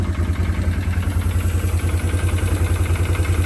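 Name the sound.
quad ATV engine idling on two cylinders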